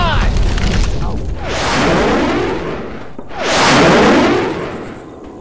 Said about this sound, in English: They're blowing this bridge to cover a retreat.